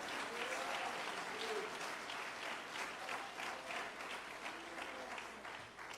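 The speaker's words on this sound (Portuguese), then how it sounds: "Você pode aplaudir a Jesus?" A church congregation applauds steadily throughout, a dense, continuous clapping that fills the room at moderate volume before tapering slightly at the end.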